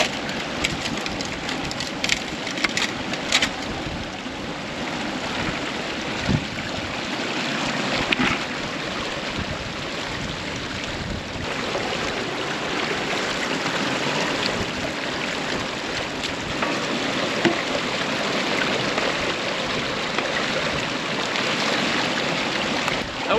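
Waterfall and stream water pour steadily and loudly at a gold-prospecting spot, a dense continuous rushing wash with no talk over it.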